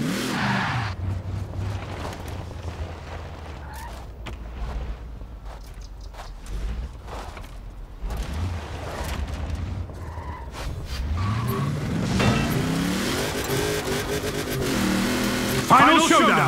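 Bowler and Lamborghini Urus racing through a forest in Forza Horizon 4, with engines revving and shifting, tires squealing and skidding, and a loud surge near the end, while a voice talks over the action.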